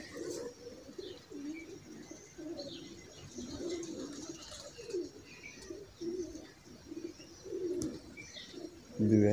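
Pigeons coo softly in low, throaty repeated calls at an irregular pace, with faint chirps and background noise around them.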